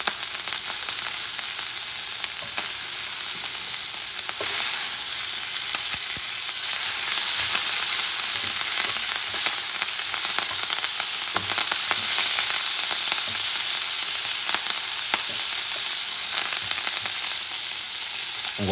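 A bison sirloin steak frying in butter with oregano, thyme and rosemary in a cast iron pan, giving a loud, dense, unbroken sizzle that holds steady throughout, with no voices.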